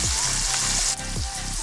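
Cumin seeds and turmeric powder sizzle and fry in a hot pan, a steady loud crackling hiss with small pops, close and continuous throughout.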